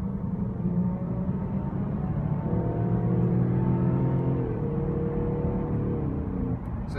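A 2016 Range Rover Evoque SE accelerates at about three-quarter throttle, its engine note rising steadily and whirring loudly from inside the cabin, with a shift in pitch partway through as it pulls toward sixty.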